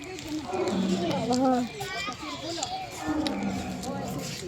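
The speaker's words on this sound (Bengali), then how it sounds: "আর দেখো কেমন আওয়াজ করে ডাকছে সিংহ।" A lion at a zoo roars in throaty bursts that rise and fall twice, mixed with children's voices nearby and crowd chatter.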